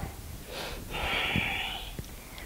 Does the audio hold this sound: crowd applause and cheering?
no